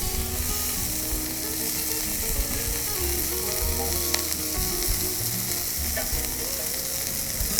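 Buttered bread for crostini toasts in a hot pan, giving a steady, dense sizzle that holds evenly throughout, close up with faint clicking and scraping underneath and no voices.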